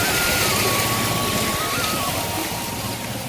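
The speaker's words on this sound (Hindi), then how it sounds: "देखे छियै सहरसा में वर्षा पड़े आ पानी नहीं लागे" Steady rain pouring down in Saharsa, a dense continuous hiss of drops hitting surfaces, loud and close throughout, with a faint tonal whine running underneath and no one talking.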